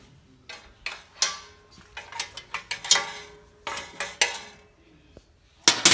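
Plate bolts on an Atlas Traps RTC clay target thrower are loosened with a ratcheting tool, rapid clicking bursts and metallic clanks in uneven clusters, close and fairly loud.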